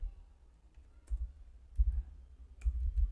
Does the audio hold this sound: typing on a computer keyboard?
yes